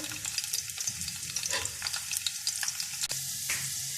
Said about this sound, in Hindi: थोड़ा सा हमारा लहसुन ब्राउन हो जाएगा तो फिर हम दूसरी चीज़ें भी ऐड करेंगे इसमें